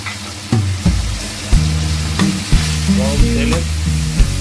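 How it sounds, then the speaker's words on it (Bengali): A spice paste of mixed ground spices and water fries on a low flame for a jackfruit curry, with a steady sizzle broken by a stirring scrape roughly every second, close and fairly loud. "দিয়ে কষাতে থাকুন লো ফ্লেমে কষাবেন"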